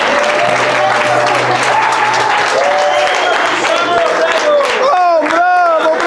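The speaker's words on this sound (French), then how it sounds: "faire un tonnerre d'applaudissements pour notre speaker, Monsieur Éric Laguerre, national." A thunderous, sustained round of applause from an audience greeting a speaker at a promotional event, loud and continuous, while voices cheer and call out over it.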